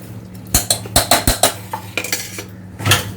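A spoon clinks against a pot while ridge gourd and moong dal with a little water are mixed before pressure cooking, a quick run of sharp metallic knocks and scrapes at close range.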